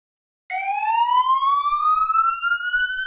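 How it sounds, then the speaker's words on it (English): Ambulance siren from a video game, starting abruptly after a half-second of silence and then holding a loud, steady rising electronic wail with no talk over it. "Here's the ambulance."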